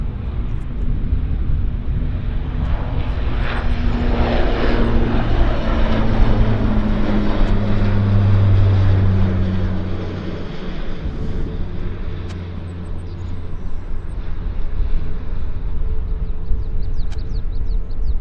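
WestJet 3537, an airliner at Vancouver Airport, rolls for takeoff with a rising, sweeping engine roar that peaks mid-way, then eases into a lower steady rumble as it recedes.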